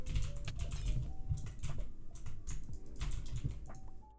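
Rapid computer keyboard typing and key clatter during a Minecraft Skywars ranked match, a steady flurry of close clicks running throughout with faint game sounds beneath.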